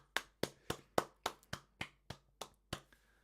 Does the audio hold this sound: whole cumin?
no